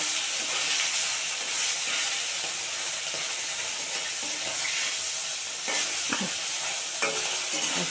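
Parshe fish fry in hot oil in a pan, giving a loud, continuous sizzle close by, broken by a few scraping clicks of a utensil turning the pieces.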